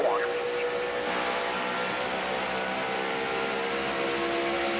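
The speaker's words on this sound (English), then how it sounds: "car audio where you can hear that thing, throttling and pedaling it through the corners to keep the car underneath of him" NASCAR stock car heard from the in-car audio on track, a loud continuous engine roar with a brief rising rev at the start, steady and close as it throttles through the corners.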